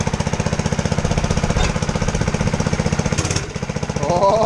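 Small engine on a finished Baja Warrior mini bike, just started on the first pull with the choke on, idles with a steady rapid chugging pulse, loud and close, a brief revving surge midway and a faint clank near the end.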